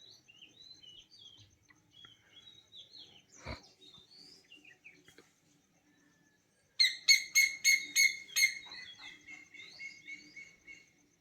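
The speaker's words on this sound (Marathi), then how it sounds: "या ठिकाणी कोकिळा आलेली आहे" Faint, scattered bird chirps at dawn in a village give way to a loud burst of repeated, rising calls in quick succession from an Asian koel, then they taper off.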